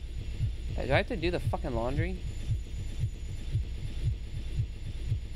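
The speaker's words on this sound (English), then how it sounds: "This heartbeat won't stop," A slow, steady low heartbeat thumps on repeat throughout a scene in the horror game Infliction, dull pulses in even rhythm under a low hum, while someone talks over the early part.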